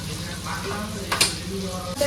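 Potatoes and pointed gourd frying in spice paste in a pan for a Bengali katla fish curry, with a steady close sizzle and occasional stirring scrapes, plus a brief brighter clatter partway through.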